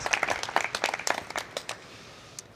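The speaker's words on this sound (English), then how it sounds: "You're doing really well with the clapping" A small audience claps at a WASH discrimination session: a quick, uneven patter of hand claps that fades out over a couple of seconds, fairly faint, with one last stray clap.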